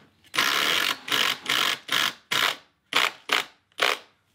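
A power drill with a 3/8 hex head bit drives a lag screw for a deck lateral tension tie: about eight short, close whirring bursts, each a second or less, separated by brief pauses.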